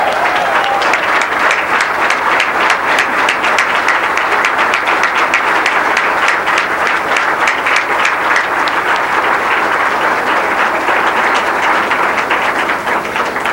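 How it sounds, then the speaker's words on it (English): Sustained, loud audience applause at a University of Texas Longhorn Hall of Honor induction ceremony for the women's athletics class of 2001, dense and even from start to finish with no voices. "How about one more round of applause for our class of"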